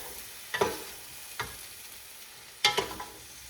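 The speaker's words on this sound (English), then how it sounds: "Let me give this another stir." A spoon stirs corned beef, cabbage and potato soup in a pot, making three brief, soft scraping strokes spread over a few seconds against a quiet background hum.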